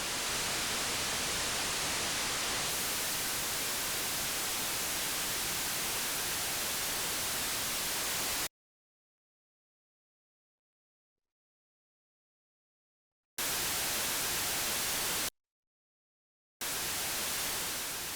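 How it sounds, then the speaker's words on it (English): Digital noise from an ALM MCO module, sampled and looped: a steady broadband hiss that cuts out abruptly into silence, then returns in two short bursts separated by another gap. "we'll select the MCO, which can function as a digital noise source"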